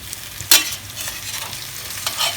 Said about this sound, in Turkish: Patatesleri kavurduk arkadaşlar. Etini koyuyoruz şimdi.